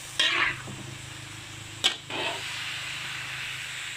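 Bamboo shoots sauté in a pan, with a few scraping stirs and clatters over a soft steady sizzle.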